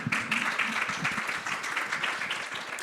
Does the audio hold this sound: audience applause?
yes